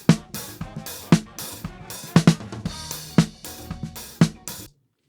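Close top-mic pickup of a snare drum during a home-studio band recording: crisp, dry, cracking strokes in an uneven groove, with softer ghost notes and a little bleed from the rest of the kit between the main hits.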